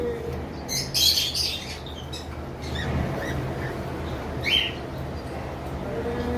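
Several caged birds at a bird market chirp and squawk in short, scattered bursts at moderate distance over a low background hum.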